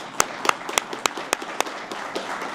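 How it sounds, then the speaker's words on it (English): Scattered clapping from a small audience at a radio club meeting, a few sharp distinct claps near the start, then thinning into a sparse patter that fades. "I just want to give Jeri another round of applause"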